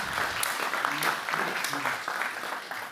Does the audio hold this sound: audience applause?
yes